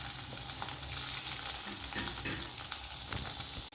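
Paneer pieces frying in oil in a kadai over a low flame, giving a steady close sizzle with occasional stirring scrapes and a brief clunk near the end.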